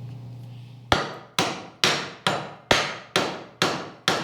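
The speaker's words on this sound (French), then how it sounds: "quand je relâche la pression qui fait rebondir le marteau" A hammer strikes eight times at a steady, fairly quick rhythm, each sharp blow ringing and decaying as the head rebounds, loud and close; a low hum sits underneath before the first blow.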